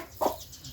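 A single short cluck from a chicken in a small flock of ten birds, heard close and brief against quiet background noise.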